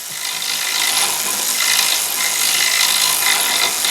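A ratchet wrench clicks in a fast, continuous buzzing rattle while removing parts from an air-cooled flat-twin 2CV engine, loud and close.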